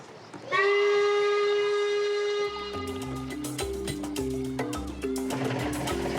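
A steam boat whistle blasts loudly on the Lot river, then gives way to a rhythmic chuffing steam engine with repeated puffs and clanks, close by.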